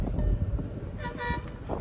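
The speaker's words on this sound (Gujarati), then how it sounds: "બસ મારે છે હોર્ન એટલે અમારે બી ગાડી જવા દેવી પડશે" A bus horn honks on a road near Anand, Gujarat, under cloudy skies: a short tonal toot rising over steady road rumble and wind, fairly close by.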